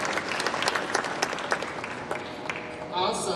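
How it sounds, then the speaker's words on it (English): Audience applause at a college football media day: steady clapping from a seated crowd, moderately close, swelling slightly near the end, with a speaking voice over it. "If we could give him a round of applause"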